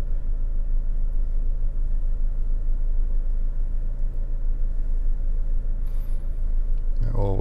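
Ford Focus 1.8 Zetec five-door with its engine idling, a steady low rumble heard from inside the car, with brief movement noise near the end.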